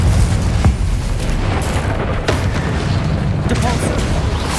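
Explosive spell impacts in the Hogwarts Legacy video game, loud booming blasts and crackling bursts in quick succession over a dense rumbling background, with a voice shouting spell names between hits.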